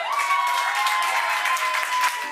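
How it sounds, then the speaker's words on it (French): A crowd in a lively Abidjan nightclub applauds in a dense, steady burst over music, with a sustained tone running underneath. "Déjà applaudissez pour vous."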